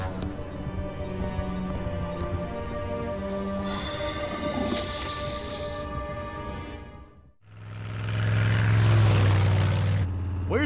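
A train rumbles past with clattering wheels and rising noise, then a brief dip before a loud, roaring rush of sound close by.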